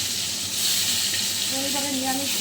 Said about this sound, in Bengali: তেল গরম হয়ে গেছে, এবার আমি এটা করে বেগুনগুলোকে ছেড়ে দেবো। বেগুনটা ভাজা হবে।